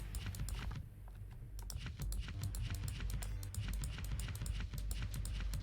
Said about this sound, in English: Enjoy the sound of vigorous clicking.